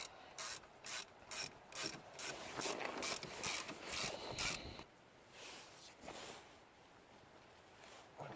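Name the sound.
ratchet tightening brake caliper bolts on Saturn SC1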